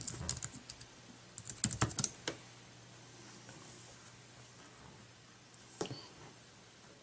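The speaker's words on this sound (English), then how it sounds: "we can go ahead and tap the address bar and type in something" Several quick keystroke clicks on an Apple iPad Keyboard Dock used with an iPod Touch 4G, with a dense burst early on and isolated taps later, close and moderately loud in a quiet room.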